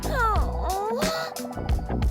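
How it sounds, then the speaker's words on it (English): A cat meows with rising and falling tonal cries in the opening second, close and fairly loud, followed by softer mewing sounds over a low background hum. "That is a cat."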